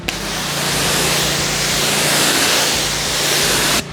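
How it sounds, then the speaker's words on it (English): A steady hissing spray of detailing product onto a car's exterior runs continuously for a few seconds, close to the microphone, broadband and even, ending abruptly. "So right now I'm just spraying the product on the surface."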